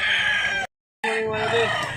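A rooster on a gamefowl farm crows loudly and close, breaks off in a short silence, then crows again with a long drawn-out call.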